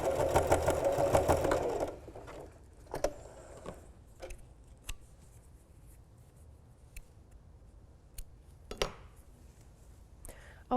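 A Singer Heavy Duty sewing machine whirs steadily for about two seconds while stitching a short seam, then stops, leaving quiet room sounds with a few light clicks and taps.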